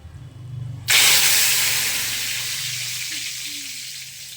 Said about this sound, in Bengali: বাদাম ভাজা এবারে কারি পাতা ভাজা হবে।